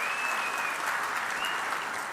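Steady applause from a crowd at a cement plant expansion foundation ceremony, a continuous even wash of clapping with no breaks, faint and somewhat distant.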